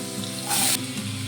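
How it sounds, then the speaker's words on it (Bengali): Diced potatoes frying in hot oil in a wok, a steady close sizzle with a louder hissing burst midway, no voices. "আলুগুলোকে ভেজে নেব।"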